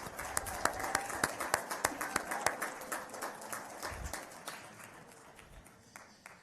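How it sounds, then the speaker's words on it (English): Audience applause for the Mays High School Choir at a program in Atlanta, a steady patter of claps from a seated crowd that gradually thins and fades over several seconds. "Let's give them another round of applause."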